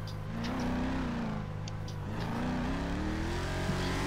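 Car driving in the GTA 5 video game, a continuous engine drone that rises and falls in pitch as it moves, steady and fairly loud throughout with no talking.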